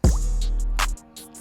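A heavy drum beat pushed through a saturated, clipping master channel in Ableton Live 10, with a booming low kick and a bright snare hit, loud and distorted, alone without talk.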